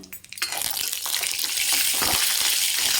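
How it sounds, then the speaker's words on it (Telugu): Cashew nuts fry in ghee, a bright, steady sizzle that bursts in after a brief quiet moment and stays loud and close, with faint stirring sounds underneath. "ఇప్పుడు జీడిపప్పు అయితే వేయించుకుందామని ఇగోండి ఇది కొంచెం వేయించుకుంటే బాగుంటాయి నెయ్యితో"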